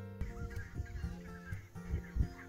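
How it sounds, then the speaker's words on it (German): A large flock of barnacle geese mixed with a few white-fronted geese, a continuous dense chorus of honking and calling at moderate distance. "Und das sind fast alles nur Weißwanggänse und ein paar Blässgänse dazwischen."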